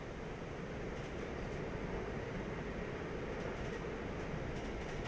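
A train running at about 80 km/h in Train Life: A Railway Simulator on a passengers and mail route from London to Calais, heard as a steady, dense rumble with continuous wheel and track noise throughout.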